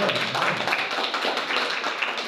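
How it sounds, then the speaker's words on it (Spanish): A church congregation applauding during a Spanish-language service, a brief burst of dense, close clapping mixed with voices, fairly loud and steady for a couple of seconds. "Un aplauso para el Señor."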